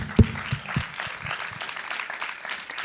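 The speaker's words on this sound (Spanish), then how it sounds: "Un aplauso para Monty Peiró, por favor" Live audience applause at the Vegan Fest in Alicante for a guest, opening with a loud close clap and then settling into a thinner, scattered patter of clapping with a few sharper individual claps.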